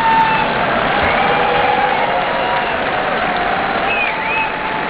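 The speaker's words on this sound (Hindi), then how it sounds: "ये ताली दम वाली क्यों नहीं थी" Sustained applause from an audience at a real estate developers' youth conference, a dense steady patter of clapping filling the room throughout with no pause.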